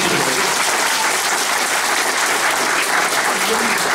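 Strong, loud applause from a crowd at an AK Party district meeting in Kızılcahamam, a dense, continuous roar of clapping hands that stays steady and close throughout.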